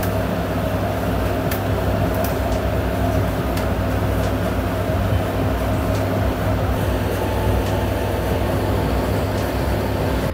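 A clothes dryer runs in a home utility area outside the washrooms, giving a steady, continuous low hum and rumble with a constant whir and no pauses, close and fairly loud.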